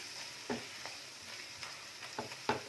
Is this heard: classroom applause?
no